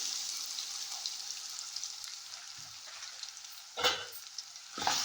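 Chana dal and dried red chillies frying in a pan for a cabbage and potato curry give a soft, steady sizzle, with a couple of sharper scrapes from stirring near the end.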